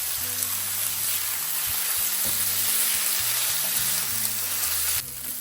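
Onion and frozen vegetables frying in a pan, a steady close sizzle with stirring and scraping noises running throughout, dropping off sharply near the end.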